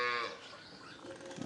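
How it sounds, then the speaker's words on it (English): Cows on a small farm moo once in a drawn-out, moderately distant call that fades, followed by quiet outdoor ambience. "This is an area where we keep our cows."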